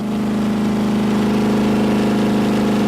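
A car engine with Prolong treatment screams steadily at a sustained 6,000 RPM with its oil pan removed, a loud, unbroken high-revving drone with dense harmonic buzz and no pauses throughout.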